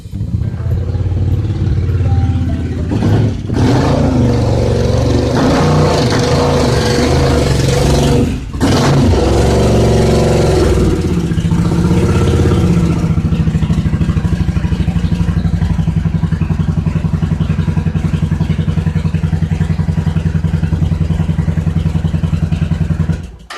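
A Suzuki Intruder motorcycle engine, newly repaired with replaced leaking fuel hoses, turns over and settles into a steady, loud idle close by, with a few revs and mechanical clatter early on and no talking.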